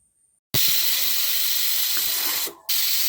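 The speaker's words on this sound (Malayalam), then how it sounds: "അപ്പോൾ ഇതാ നമ്മുടെ പ്രഷർ കുക്കറിന് ഇവിടെ 2 വിസിൽ വന്നിട്ടുണ്ട്." After a brief silence, a loud, steady blast of hissing steam bursts from a pressure cooker whistle, dips for a moment, then resumes at full force close by.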